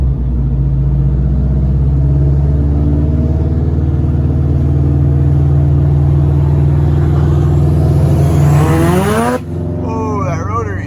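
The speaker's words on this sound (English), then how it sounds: "that rotary sounded amazing" A Mazda RX-7 rotary engine, right-hand drive, idles loudly up close with a steady drone, then revs up in a rising whine toward the end before cutting off abruptly, followed by a couple of quick blips.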